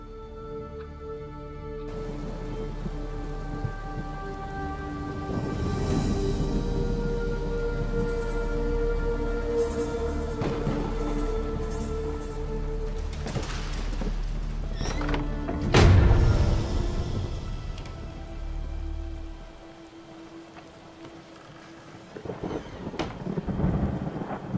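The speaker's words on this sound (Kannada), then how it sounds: "ಮಳೆ ಅಷ್ಟು ಜೋರಾಗಿ ಬರ್ತಾ ಇದೆ" Heavy rain pours steadily in a storm, with rolling thunder building through the clip and one loud, close crack near the middle before the downpour eases slightly.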